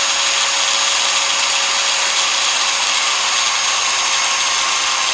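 A variable speed grinder runs with a steady high-pitched whine and broadband hiss, continuous and close, with no voices.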